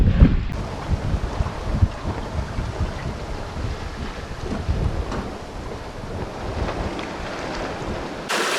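A sailboat on a broad reach at sea, with strong buffeting wind across the microphone over a steady wash of water and waves along the hull, loud and continuous without talk.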